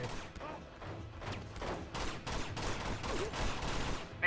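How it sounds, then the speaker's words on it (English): Gunfire in the Uncharted 2 video game, rapid bursts of shots cracking in quick succession, fairly loud and continuous, with no talk over it. "Oh, stop shooting me, please!"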